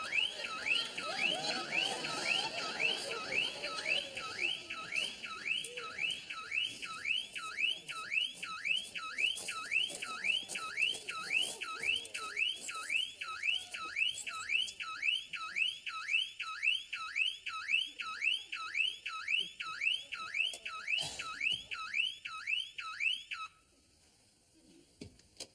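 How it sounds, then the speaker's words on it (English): A car burglar alarm blares nearby in a fast repeating whooping siren cycle, loud and steady for over twenty seconds before cutting off abruptly. "I had a burglar alarm fitted."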